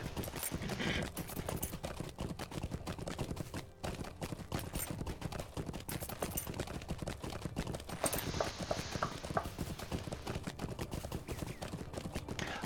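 Horse hooves clip-clop continuously in the online game Lord of the Rings Online, a fast, dense run of hoofbeats that keeps a steady level over the whole stretch with no talk.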